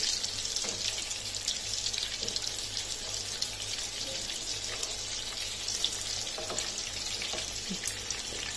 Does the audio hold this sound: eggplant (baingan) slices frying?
yes